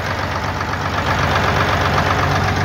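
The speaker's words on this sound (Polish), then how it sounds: "Silniczek pracuje." A small motor on a Bizon combine harvester runs at a steady idle, close and loud, with an even low rumble and slight knocking texture throughout, no voices.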